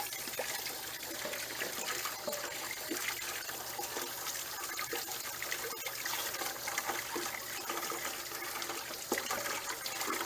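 Water gushes steadily from a hose while an RV water heater is flushed out, a loud, continuous broadband splashing and trickling close by, with no talk over it.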